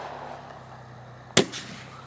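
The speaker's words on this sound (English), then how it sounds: "He's watching the fireworks every which way." A single sharp firework or firecracker bang goes off at a distance outdoors, one brief loud crack with a short rumbling tail over quiet background.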